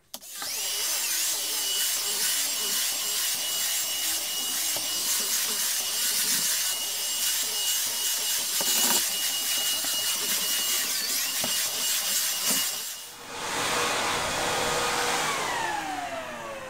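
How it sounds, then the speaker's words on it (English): A Hoover Discovery cordless vacuum cleaner runs loud and close with a high whining motor tone and shifting pitch as it cleans, then briefly dips before spinning back up near the end. "the Hoover Discovery Cordless Vacuum Cleaner, a lightweight alternative to being able to clean your home"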